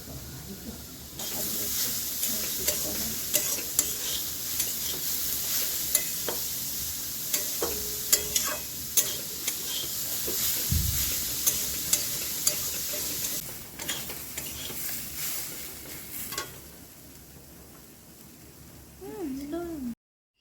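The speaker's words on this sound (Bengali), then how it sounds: "ঘিয়ে ভালো করে অনেকক্ষণ ধরে নাড়িয়ে নাড়িয়ে ভাজতে হবে" Grated carrot fries in ghee for a carrot sweet, a continuous sizzle broken by frequent spoon scrapes and stirring clicks, with a voice faintly audible at points.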